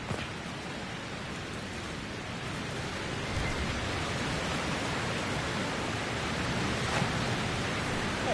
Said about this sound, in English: I love the sound of like a waterfall or rain